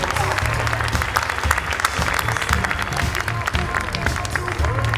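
Sustained, dense applause from a crowd at a talent show in Aubervilliers, steady and fairly loud throughout, with a hint of cheering and murmur underneath.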